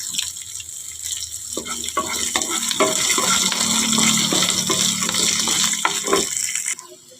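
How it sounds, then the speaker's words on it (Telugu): Water is poured into a hot pan of fried ingredients for cooking semolina, hissing and sizzling steadily for several seconds before cutting off. "వేగిపోయినాయి కదా, ఇందులో వాటర్ వేసుకున్నాం."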